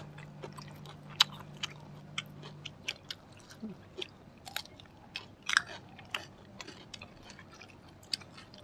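Close crunchy bites and chewing of crispy fried eggplant, a series of sharp irregular crunches and softer mastication sounds spaced over several seconds in a quiet setting.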